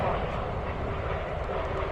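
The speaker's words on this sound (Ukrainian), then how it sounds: "Чекаємо на, на наступний літак." A jet airplane roars overhead in one loud, steady, broadband sweep of engine noise that fills the whole two seconds with no break.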